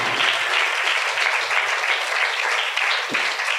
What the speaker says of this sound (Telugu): చప్పట్లు కొట్టాలందరూ.